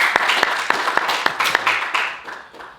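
Audience applause and scattered clapping for guests on a talk show couch, a crowd of sharp hand claps fading out over a few seconds, no voices.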